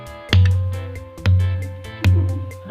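A stone gong, a hollow rock formation in a cave, is struck three times at an unhurried pace; each hit booms deep and close, then rings out with a long resonant decay.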